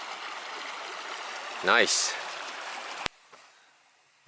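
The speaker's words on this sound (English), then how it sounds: "But wow, look at all this water." A rushing white-water stream along a hiking trail fills the background with steady broadband roar, and a person briefly speaks over it partway through before the sound drops after a sharp click.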